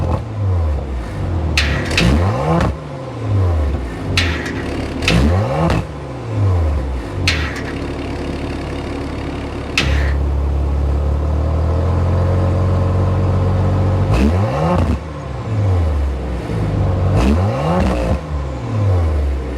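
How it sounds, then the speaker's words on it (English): A 2023 Audi RS5 Sportback fires up and its exhaust revs loudly in repeated rising and falling sweeps, with a steady idle in between, close and without talk. "start up so we can hear that exhaust note"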